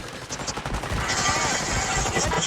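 Gunfire rattles in Call of Duty, with rapid bursts of shots crowding together loud and close, while voices are briefly heard alongside.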